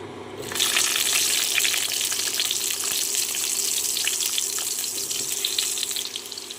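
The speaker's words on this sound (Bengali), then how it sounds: "কড়াতে আমি তেল গরম করে নিয়েছি দিয়ে দিচ্ছি আগে থেকে কেটে রাখা আলু" Cut potatoes dropped into hot oil in a wok, setting off a loud, steady hiss of frying that starts abruptly and carries on without a break, close by and with no talk over it.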